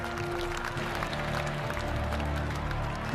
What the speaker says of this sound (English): The jubilant crowd outside expected a celebration of the Union victory.